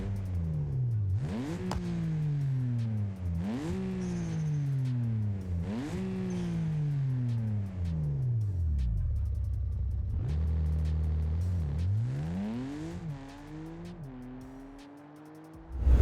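A car engine from a paid BeamNG driving game mod revs and shifts through repeated rising acceleration sweeps, loud and close, easing to a lower rumble midway before climbing through the gears again.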